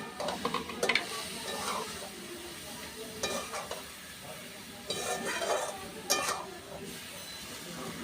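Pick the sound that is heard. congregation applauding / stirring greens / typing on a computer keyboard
stirring greens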